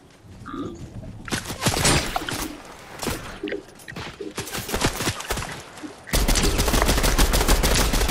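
Gunfire in the Fortnite video game, bursts of rapid shots and scattered single cracks at varying distances, growing denser before a steady loud roar takes over.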